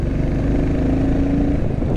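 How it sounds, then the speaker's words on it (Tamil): Royal Enfield Classic 350 engine being revved while stationary, a steady low thumping exhaust drone that holds level and loud close by for the whole stretch, with no talking over it. "கிளாசிக் 350யோட எக்ஸாஸ்ட் நோட்டு பார்க்கும்போது நான் கொஞ்சம் ரெவ் பண்ணுறேன்"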